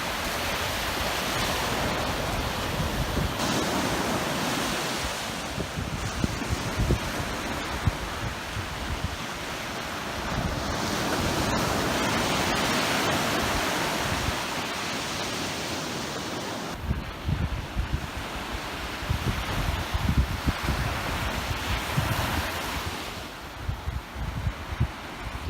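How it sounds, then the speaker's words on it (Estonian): Sea waves surge and break on a shore at Palli, Hiiumaa, in long, rolling washes, loud and close, with steady wind noise between the crashes. "Laine käib peaaegu kaldani välja"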